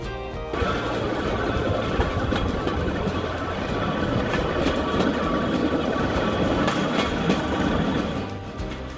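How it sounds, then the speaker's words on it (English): Small rail bike wheels roll loudly and steadily along railroad tracks on a short excursion line, a continuous clattering rumble with a faint mechanical whir that holds for most of the stretch. "One of the first things we noticed as we got moving was the sound of the bike wheels on the tracks. It's pretty loud."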